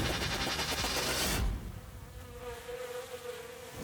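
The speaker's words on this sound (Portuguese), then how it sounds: "As abelhas." Bees in a city setting buzzing in a steady drone, loud and close for the first second and a half, then dropping to a fainter, thinner hum that continues alone.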